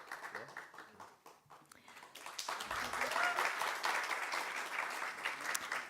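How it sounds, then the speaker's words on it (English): Applause and cheering from the audience at a book launch in a small theatre; quieter patter at first, then swelling into sustained, dense clapping with cheers, with some talk mixed in. "You have quite the cheering brigade, sir, in the audience."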